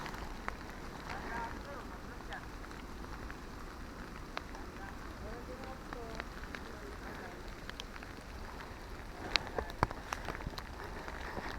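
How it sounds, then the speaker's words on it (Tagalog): Heavy rain pours down on a mountain trail at Mt. Jinmianshan near Taipei, Taiwan, a dense, steady hiss of drops with a few sharper patters near the end, and voices faintly present beneath it. "Grabe na ulan."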